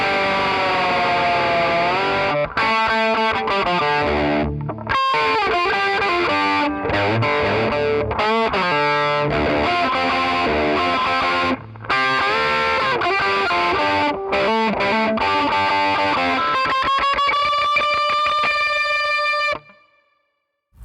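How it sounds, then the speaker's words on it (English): Electric guitar solo from a song, played with a distorted tone: a continuous run of sustained, bending lead notes with brief gaps, ending on a rising sustained phrase that rings out and fades, with no talk. "The solo, as well as I can play it, sounds like this."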